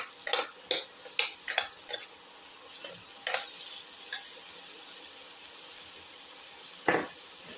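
Tomato pieces with salt cook in a pan under a soft continuous sizzle, broken by sharp clinks and scrapes of a spoon against the pan, several in quick succession early on and one more near the end.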